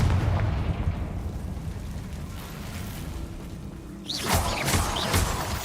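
Confringo fire-blast spell in the video game Hogwarts Legacy, a muffled rumbling boom near the start, then a sharper burst of crackling blasts toward the end over low background ambience.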